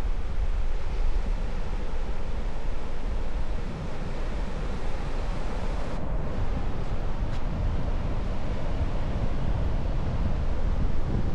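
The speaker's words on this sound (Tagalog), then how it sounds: "Malakas yung alon mga buddy." Strong sea waves surge and crash continuously at a rough shoreline under heavy, steady wind buffeting, with no voices.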